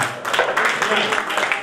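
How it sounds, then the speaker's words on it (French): An audience claps for itself during a lively French-language event, a short burst of dense clapping with voices and crowd noise mixed in, fairly loud and close. "Applaudissez pour vous-même."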